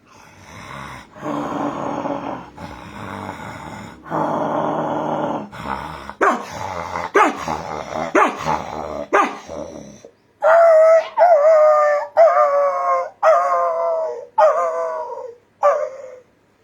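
A person imitates a dog: low growls first, then a run of sharp barks, ending in drawn-out howls, loud and close with short pauses.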